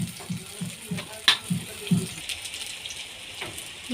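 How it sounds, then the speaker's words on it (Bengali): Battered taro fritters sizzle softly in hot oil, with a low crackle and a few brief pops and clatters of a utensil near the pan. "হালকা লাল লাল করে ভেজে নিতে হবে"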